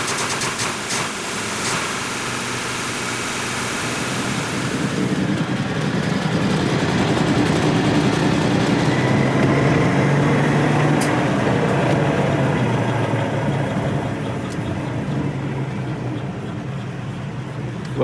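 Volvo 164 engine with engine damage running close by, a loud steady rumble with a rougher revving stretch at the start that settles into a sustained drone, no talk.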